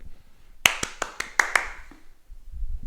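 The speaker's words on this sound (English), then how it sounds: "you can clap and catch with one hand" Six sharp hand claps in a quick, uneven burst as a child bounces and catches a tennis ball during a primary school tennis drill at home, close and clear against a quiet room, with faint low rumble near the end.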